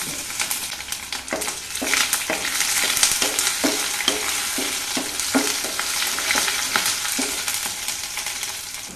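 Green chilies, ginger and garlic fry on medium flame after mustard seeds and curry leaves, giving a steady sizzle with rhythmic spoon scrapes and clacks against the pan, close and continuous, with no voices.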